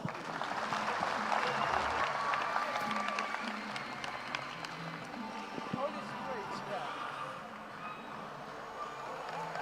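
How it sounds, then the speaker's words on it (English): Audience applause at a Kenya Kwanza political manifesto launch, a broad wash of crowd clapping with cheering and voices mixed in, sustained and gradually fading, heard from a distance. "A round of applause."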